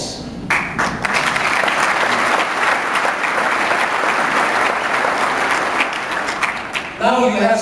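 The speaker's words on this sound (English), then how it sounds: "I think that deserves applause." An audience in Chicago breaks into a loud, sustained wash of applause after a speech on a global mission against disease, fading at the end as a voice comes in.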